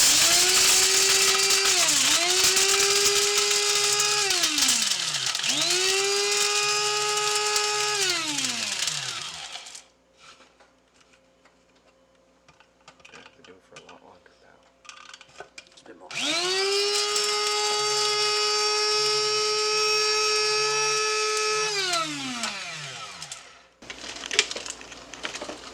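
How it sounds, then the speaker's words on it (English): A coffee grinder pulverizes tandoori spice blend in several loud whining bursts, each winding up, holding steady, then spinning down, separated by quieter pauses. "you're going to slowly pour your spices into the coffee grinder"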